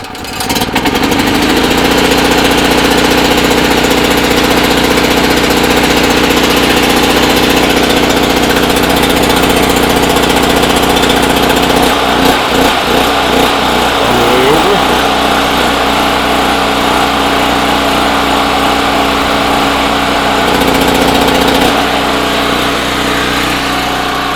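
A 3550-watt portable RV generator runs loud and steady for a long stretch, a constant buzzing drone with a brief wobble partway through.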